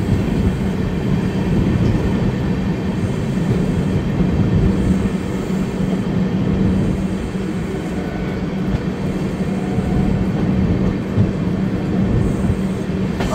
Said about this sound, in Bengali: 2 নম্বর প্ল্যাটফর্মে ট্রেন দিয়েছে কৃষ্ণনগর সিটি জাংশন